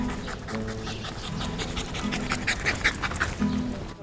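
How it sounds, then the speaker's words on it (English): A dog in a home pants steadily and close by, quick rhythmic breaths that go on without a break, with no voices over it. "It's good to see a happy dog in a nice home"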